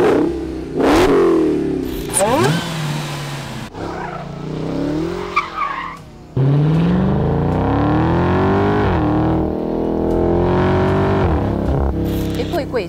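The V8 engine of a Dodge Challenger Hellcat revs hard and roars through repeated accelerations, with tire squeal and voices talking over parts of it.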